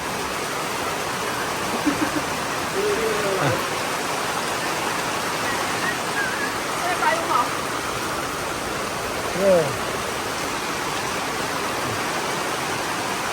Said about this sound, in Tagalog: Ayan, umulan.